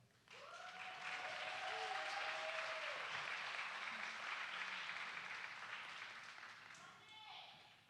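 An audience at a Young Men United graduation ceremony breaks into sustained applause that swells quickly, holds loud and full for several seconds, then tapers off, while a voice speaks faintly near the start and end.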